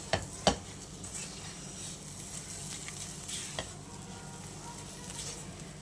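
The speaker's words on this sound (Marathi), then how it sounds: "मी इथे अर्धा कप साखर घातलेली आहे आणि मिक्स करून घेऊया" Sugar being stirred into a mango puran mixture in a pan, soft scraping and stirring over a faint steady sizzle, with a couple of sharp utensil knocks at the start, quiet and close.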